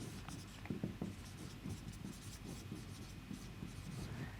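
Faint scratching of a pen or chalk writing out steps of a cipher proof during a cryptography lecture, soft irregular strokes continuing for several seconds in a quiet room.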